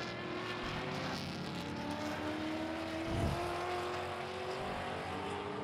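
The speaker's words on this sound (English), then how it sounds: "The Mustangs have a very distinct rumble to them." A distant Mustang race car engine drones steadily with a low rumble, swelling briefly as it passes closer, against constant background noise of a sports car race.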